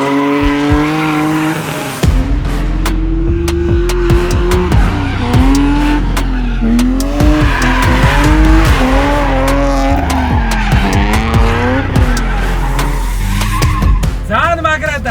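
A BMW M3 E36 drift car revs hard and slides, its engine wailing up and down through gears while tires squeal and screech loudly and continuously over about fifteen seconds, close to the microphone.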